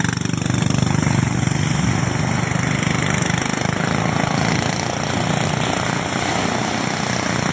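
A small fishing boat's engine drones loud and continuous as the boat pushes through rough waves, with steady wind and water noise throughout and no talk.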